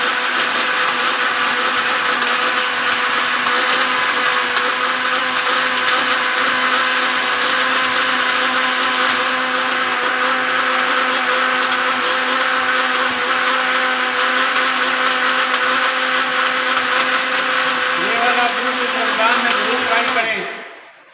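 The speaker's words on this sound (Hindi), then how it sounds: "अच्छे तरीके से ग्राइंड कर लेना है।" An electric blender grinds tamarind and potatoes for an iftar plum sharbat, a loud, steady motor whine with a churning buzz that runs unbroken for about twenty seconds before spinning down.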